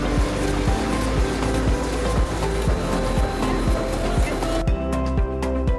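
A GW1450LP corrugated cardboard laminating machine runs with a dense, continuous mechanical roar and a steady rhythmic clatter of regular thumps that thins out near the end.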